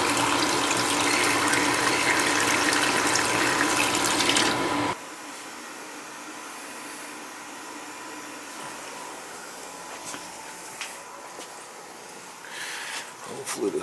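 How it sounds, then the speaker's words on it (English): Water rushes loudly out of a gas boiler's tank as it is drained, a strong continuous hiss that cuts off abruptly partway through, leaving quiet room noise and faint clicks. "And drain that tank down."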